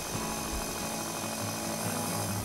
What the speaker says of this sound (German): Mit Hilfe einer Knetmaschine lasse ich den Teig kurz vorkneten.